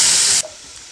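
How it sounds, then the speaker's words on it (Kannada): Ground raw onion and tomato puree hits a hot pan of fried masala for kaju paneer masala, giving a loud, bright sizzling hiss that cuts off abruptly and leaves a faint, steady simmer. "ರುಬ್ಬಿ ಇಟ್ಕೊಂಡಿರುವಂತಹ ಈರುಳ್ಳಿ ಮತ್ತು ಟೊಮೊಟೊ ಸೋಸನ್ನು ಹಾಕ್ಕೊಳ್ತಾ ಇದ್ದೀನಿ"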